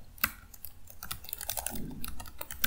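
Rapid clicking keystrokes on a computer keyboard as a terminal command is typed in Ubuntu Linux, close and irregular with a few sharper key hits, no voice.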